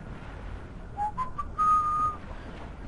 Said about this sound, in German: Muss man gerade ein bisschen pfeifen.